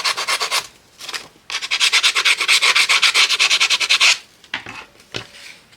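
Paper edges on a handmade journal being rubbed to distress them, a close, dry scratchy rasping in quick repeated strokes, with a pause and a few shorter rubs at the end.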